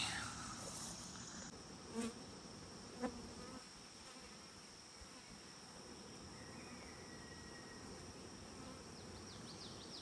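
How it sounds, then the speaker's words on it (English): A dense, continuous buzz of many bees fills the air outdoors, with a few individual insects droning closer by, steady and moderately quiet throughout. "The bees are at it early."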